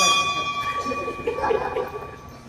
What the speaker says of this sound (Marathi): मी बोलतो आणि घंटी वाजतो